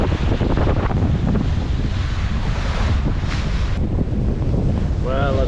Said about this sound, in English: as we expected, the wind has come up